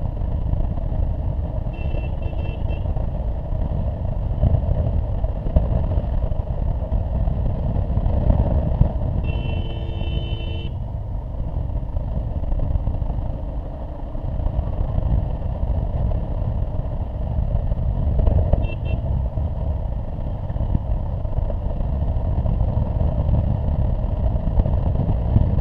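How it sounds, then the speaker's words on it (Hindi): A car climbs a mountain road near a hill station, its engine giving off a steady, fairly loud drone with some clattering and brief tonal rises that hold across the whole stretch. "पहाड़ पे हम गाड़ी चला रहे हैं अभी"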